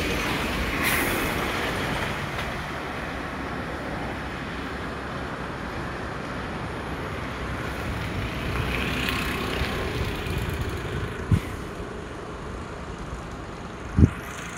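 Water tumbles down a series of waterfalls on the slopes of Brahmagiri mountain, a steady, broad rushing roar that fills the whole stretch, with a couple of brief sharp knocks near the end.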